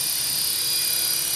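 Helicopter hovering in a strong headwind, a steady close rotor and engine whine without pause.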